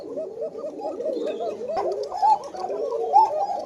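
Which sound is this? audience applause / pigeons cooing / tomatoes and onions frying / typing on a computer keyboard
pigeons cooing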